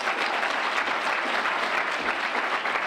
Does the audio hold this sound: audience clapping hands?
yes